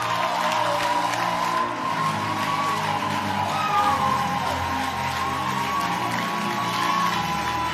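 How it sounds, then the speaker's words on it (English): A church congregation claps together in sustained applause for about a minute, the dense, steady clatter of many hands filling the room over sung or played tones underneath. "Can we clap for him for 1 minute?"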